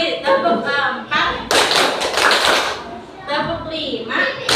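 Pupils in a class repeat a four-beat clap in a clapping game, a dense burst of many hands clapping together for over a second, surrounded by children chanting and talking.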